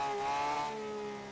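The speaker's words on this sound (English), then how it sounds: "My X5 sounds like a semi truck." A BMW X5 engine in the Forza Horizon 3 driving game, a faint steady droning hum with sustained tonal harmonics that eases slightly quieter toward the end, with no voices.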